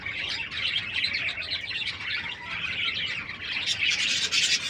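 A king quail in a breeding pair kept for sale gives high, thin chirping calls in repeated bursts, fairly close and moderately loud, with no voices.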